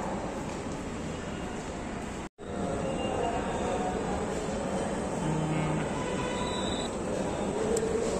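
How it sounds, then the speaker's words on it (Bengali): A Dhaka metro rail train pulls into an elevated station with a steady, loud rumbling roar of wheels and motors, a brief cutout, then continuous rolling noise with faint squeals as it slows. "ট্রেন যে কোথায় থামে দেখি।"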